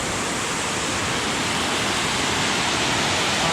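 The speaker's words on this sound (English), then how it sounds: "That's a good waterfall." A mountain waterfall on Mount Adams or Mount Madison roars in a constant, dense rush of falling water, loud and close, with no voices.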